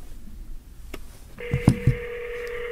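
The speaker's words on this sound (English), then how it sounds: "phone is ringing" A short electronic telephone tone starts and holds steady over a few faint clicks and taps, close and fairly quiet.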